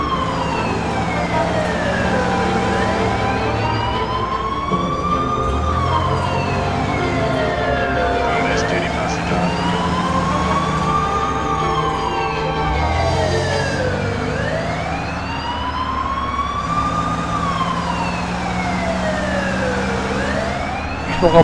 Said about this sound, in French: Coupe la sirène.